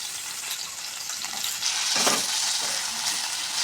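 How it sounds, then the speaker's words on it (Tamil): Garlic and adamant creeper (pirandai) sautéing in sesame oil, a continuous bright sizzle that swells briefly midway as the pieces are stirred. "இந்த பிரண்டை வந்து வெளிர் மஞ்சள் ஆகிற வரைக்கும் நல்லா எண்ணெயில் வதக்கணும்"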